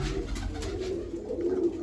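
Female pigeons in a coop give low, throaty coos in a short continuous murmur, close and moderately loud, with no voices heard.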